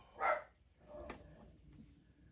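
A single dog bark rings out, followed by fainter muffled yelps and rustling in a quiet room.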